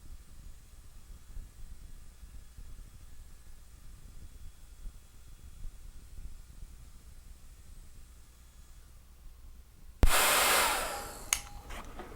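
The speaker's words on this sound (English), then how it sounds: "I'm going to get my hairdryer out here and blow this thing." A hair dryer switches on abruptly to dry a watercolor painting of a horse, giving a loud, close, steady broadband rush after a stretch of quiet room noise, with a couple of brief bumps near the end.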